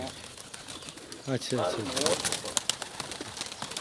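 Pigeons at a bird keeper's loft, a few soft rolling coos rising and falling in the middle, with a man's brief speech and light background rustle around them.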